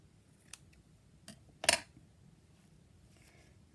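Paper being trimmed with scissors while altering an Altoid tin, heard as a few quiet, separate snips with one louder cut in the middle over a faint background.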